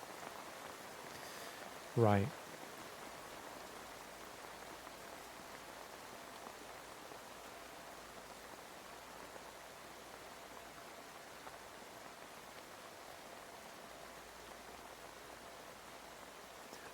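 Heavy rain falls outside as a steady, even hiss that continues for the whole stretch, with one short spoken word near the start.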